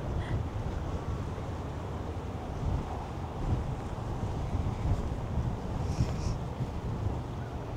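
Strong wind in Melbourne roars steadily into the microphone, a dense rumbling buffeting that never lets up, with faint surf-like hiss underneath.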